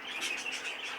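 Caged pet birds in a breeding setup give a brief, faint burst of high, rapid chirping and twittering.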